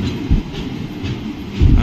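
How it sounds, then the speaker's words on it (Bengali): Train 13017 Ganadevta pulls into platform 2 at Bardhaman Junction, with a low rolling rumble and two heavier thumps of wheels over rail joints, close by. "বর্ধমানের 2 নম্বর প্ল্যাটফর্মে আমাদের ট্রেন গণদেবতা সে ঢুকেছে 13017"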